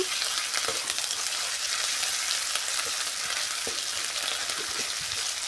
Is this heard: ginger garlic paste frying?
yes